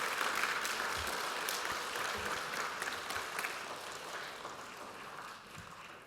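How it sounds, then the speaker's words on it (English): An interfaith conference audience gives a sustained round of applause, a steady dense roar of many hands clapping throughout, tapering slightly toward the end with no one speaking over it. "Another round of applause for them."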